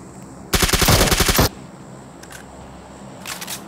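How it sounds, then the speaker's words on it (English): A loud, rapid burst of machine-gun fire rattles for about a second in what sounds like a game, followed by quieter background noise and a couple of faint distant pops. "What was he shooting at just now?"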